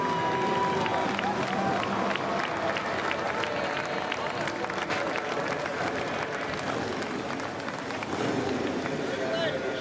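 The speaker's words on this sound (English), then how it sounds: "Getting a round of applause from the fans here inside the U.S. Bank Stadium." Fans inside U.S. Bank Stadium applaud and cheer during an X Games Harley-Davidson Hooligan race victory lap, a dense, steady roar of clapping and crowd noise that fills the space throughout.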